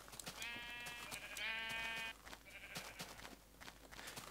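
Sheep on a mountainside farm being driven into a fence bleat loudly and close, two long wavering calls back to back followed by a softer third, with rustling movement around them.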